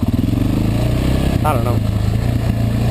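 A motorcycle engine idles at a high, steady speed with a continuous low rumble close by, while someone speaks over it.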